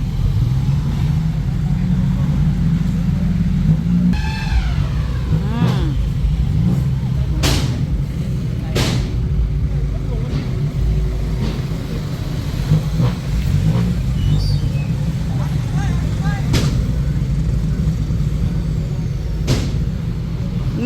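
A farm tractor's engine rumbles loud and steady throughout, with a few sharp knocks and clanks on top and a voice speaking briefly beneath the noise.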